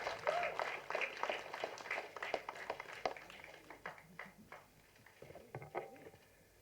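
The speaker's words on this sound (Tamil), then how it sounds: "ஒரு அழகான ஒரு கைத்தட்டல்களோட வெல்கம் பண்ணலாம்." Applause welcomes a guest at a Tamil film audio launch. The clapping is scattered and fairly faint, fading unevenly over several seconds, with some talk audible beneath it.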